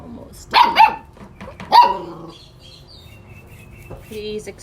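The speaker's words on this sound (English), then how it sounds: "Please excuse our puppy. She's super active. I don't know what she's barking at." A puppy barks in a few sharp, high yaps spaced over the first two seconds, close by, with a short whimpering sound near the end and a quiet room around it.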